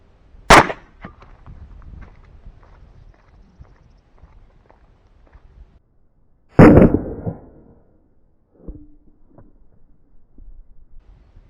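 Two sharp gunshots are fired at a bowling pin, the first near the start and the second several seconds later. Each is a loud, close crack with a short echoing tail, and faint handling noises fall between them.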